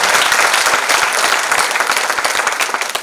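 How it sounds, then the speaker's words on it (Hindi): Loud, dense applause from an audience at a school event, honoring a girl after her speech; steady clapping fills the whole stretch without pause. "बहुत जोरदार तालियां हो जाए।"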